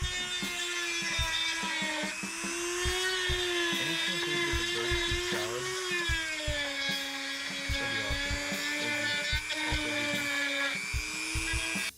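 A Dremel rotary tool grinds out cracks in a Datsun 240Z car dashboard, a close, high-pitched whine that wavers in pitch as the bit bites and eases, with grinding scrapes throughout.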